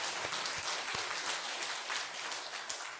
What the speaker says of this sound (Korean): 하나님 앞에 우리 함께 영광의 박수 돌리겠습니다